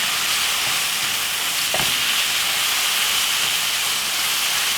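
Jerk-seasoned beef mince for a Jamaican dish sizzles and hisses steadily in a hot pan while it is stirred. There is a brief scrape partway through, and no voices.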